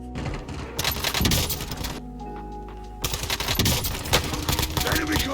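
Rapid automatic gunfire in Call of Duty: Warzone, played on an Xbox Series X, comes in dense loud bursts with a short pause between them.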